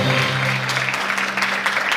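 An audience at a school investiture ceremony applauds and cheers for newly appointed sports and house captains, a dense, loud, continuous wash of clapping over a low hum.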